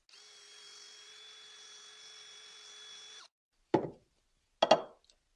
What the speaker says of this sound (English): all I do is take my cordless drill, pop them in the hole